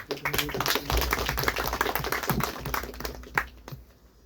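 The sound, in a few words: audience clapping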